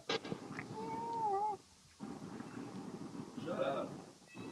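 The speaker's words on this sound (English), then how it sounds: "It's meowing." An indoor house cat meows twice, close and fairly clear, the first cry drawn out and rising and falling, the second shorter near the end, with low wind-like rumble and faint background noise between.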